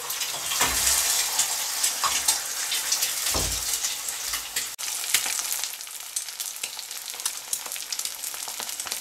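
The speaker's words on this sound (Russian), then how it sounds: "Жарим яйцо." An egg fries in sunflower oil in a pan, giving a loud, continuous crackling sizzle close by, with a couple of brief clunks from the pan and no talk.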